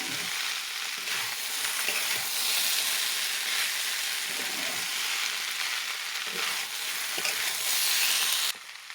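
Beetroot and potato fry in a pan with oil, giving a steady, loud sizzle that lasts throughout, with occasional soft stirring scrapes and no voices.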